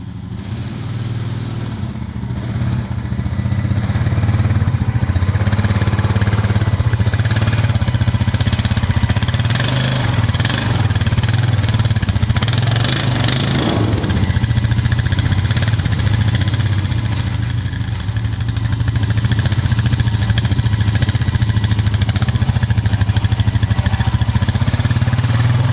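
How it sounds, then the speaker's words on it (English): Four-wheeler ATV engine running on a shipping container ramp, a continuous close mid-pitched engine drone with slight swells in revs throughout. "now we're going to check to make sure the four-wheeler fits"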